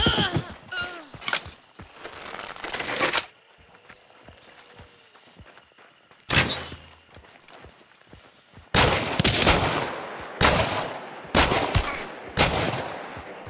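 Gunfire rings out in the game Hunt: Showdown in loud bursts of several sharp shots. The first volley comes quickly, then a lone report, then a run of separated heavy shots echoing over quiet footsteps, with no talk.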